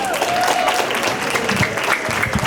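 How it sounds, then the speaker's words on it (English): Audience at a Long Island STEAM festival applauds a robotic arm demonstration, with a steady burst of clapping from a crowd close by and a few faint voices mixed in. "Give them a big round of applause."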